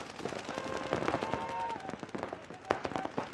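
Rapid bursts of paintball guns firing at the start of a point in an NXL Midwest Open pro tournament, dense popping cracks over crowd noise and faint distant voices.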